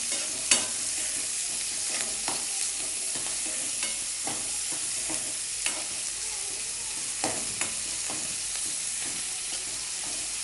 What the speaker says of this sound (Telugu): పోపు గింజలు వేగిన తర్వాత ఉల్లిపాయ ముక్కలు వేసుకోవాలి